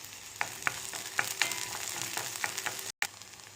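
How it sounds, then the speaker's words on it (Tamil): Small onions frying in oil for a Brahmi leaf chutney, a continuous close sizzle punctuated by repeated sharp crackles and spatula taps at irregular intervals, with a short dropout near the end and no talking. "ஆனியன் நல்லா ஃப்ரை ஆயிடுச்சு."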